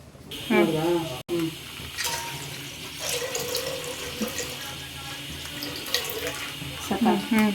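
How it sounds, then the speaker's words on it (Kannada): Colostrum and half a litre of milk pour into a cooking pot in a close, gurgling stream with light splashing, and a voice speaks briefly over it. "ಆ ಗಿಣ್ಣು ಹಾಲು ಜೊತೆ ಈ ಅರ್ಧ ಲೀಟ್ರ್ ಹಾಲನ್ನು ಹಾಕ್ಕೊಳ್ತೀನಿ"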